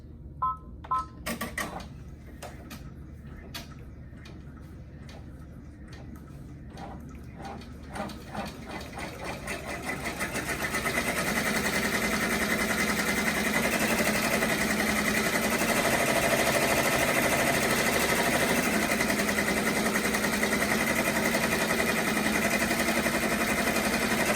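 An embroidery machine sews a tap down stitch to fix appliqué fabric onto a shirt, starting with a few spaced clicks and then building after about ten seconds into a loud, steady, rapid mechanical whir that runs to the end.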